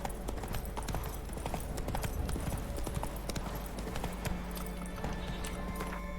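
Hooves of the horse Roach clip-clopping at a steady fast rhythm in The Witcher 3 video game, continuous and close over a constant background din, with a faint hint of a whinny.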